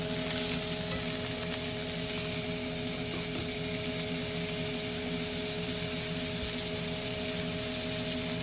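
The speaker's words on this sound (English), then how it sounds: "While the second side is searing" Meat searing in a pan during a cooking demonstration, a steady low sizzle and crackle holding at an even level with a constant background hum and no talking.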